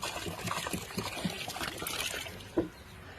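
Water running and trickling steadily nearby on a farm, a continuous wash of liquid noise with a small splash near the end.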